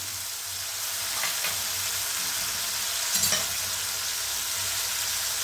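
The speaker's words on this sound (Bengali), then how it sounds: "মশলাটা একটু কষে নিই, একটু তেলটা ছাড়লে বাকি মশলাগুলো আমি দিয়ে রাখি" Spice paste sautéing in hot oil for a vegetarian tinda and sweet corn curry, a steady close sizzle with a couple of stirring scrapes, loud and continuous with no speech.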